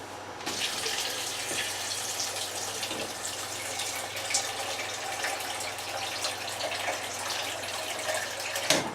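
Steady, continuous splashing of about 1.5 cups of water running into a container of soaked almonds, a close broadband rush holding even for several seconds with no talking.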